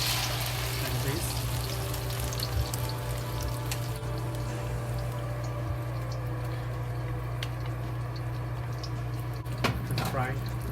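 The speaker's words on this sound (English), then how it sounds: "Just fry it." Eggs and scallions frying in a pan over a flame, giving a steady low sizzle and bubbling throughout with occasional scraping clinks near the end.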